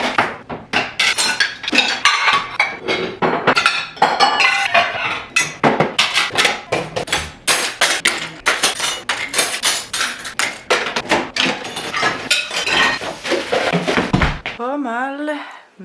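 Dishes and cutlery clink and clatter steadily as they are put away in a home kitchen, loud and close, with rapid irregular knocks for most of the stretch before a brief voice at the end.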